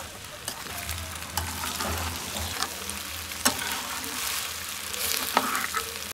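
Pasta with egg and dried chilli powder is stir-fried in a pan, a loud close sizzle broken by repeated sharp scrapes and clacks of the spatula.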